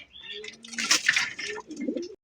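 Racer pigeons, a pair kept for sale at a bird market, give soft close cooing calls, with a few rising and falling coos over a short stretch and no talk.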